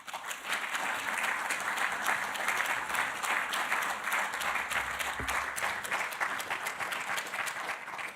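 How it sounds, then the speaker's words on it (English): A business awards audience gives a big round of applause as a guest is welcomed on stage, a loud, sustained wash of many hands clapping with steady density and no voices. "So can I ask you now to give a big round of applause and welcome Joanna Yarrow on stage."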